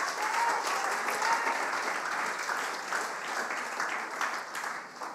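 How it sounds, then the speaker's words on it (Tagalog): A church congregation applauds steadily throughout, a dense, continuous wash of clapping with no break, loud and close. "Palakpak ang mga buhay."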